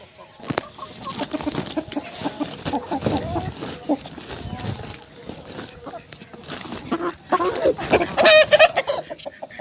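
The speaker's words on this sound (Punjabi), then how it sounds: "ਮੁਰਗਾ ਆਪਾਂ ਲੈ ਆਏ ਆ ਗੱਟੇ 'ਚ ਪੈਕ ਕਰਾ ਕੇ" A newly bought rooster, carried home in a sack, clucks and squawks in bursts that grow louder toward the end, close by and mixed with people talking.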